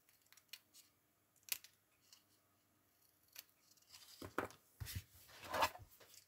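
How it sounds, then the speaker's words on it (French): Small scissors snip paper close up in sharp, separate cuts. A quicker, rustling run of snips and handling noise comes near the end. "je vais couper justement le petit dernier là"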